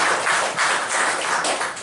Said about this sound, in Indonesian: Tepuk tangan dulu buat Kementerian.